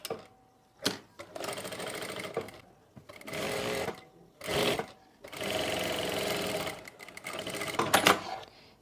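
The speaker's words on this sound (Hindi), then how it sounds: "सबसे पहले हम दोनों तरफ से आसन की सिलाई लगाएंगे।" Sewing machine stitching the seat seam of a farshi shalwar, running in several bursts of steady buzzing with short pauses between them, close and clear, with no talking.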